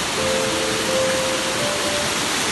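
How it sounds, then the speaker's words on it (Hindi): The Jibhi waterfall in the tree-covered Tirthan Valley pours steadily, a loud, unbroken broadband roar of falling water heard up close and alone. "ये पानी गिरने की इतनी मधुर आवाज़ आ रही है"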